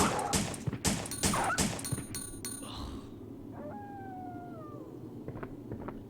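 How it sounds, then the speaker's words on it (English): Dogs howl in the Resident Evil Survivor video game, a long wavering howl rising after a burst of loud crashes and thuds, then trailing off over steady background noise with a few sharp ticks. "I hate dogs."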